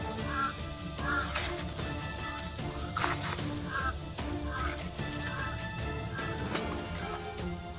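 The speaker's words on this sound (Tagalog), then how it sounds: "Boses ng uwak." Crows caw over and over in a steady string of harsh calls, fairly close and prominent above a dense background wash, with no talking.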